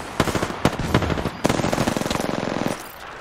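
Mastiff shotgun fire in the video game Apex Legends: rapid, loud gunfire bursts crack in a dense rattling volley, pause briefly, then resume in a longer sustained string before cutting off.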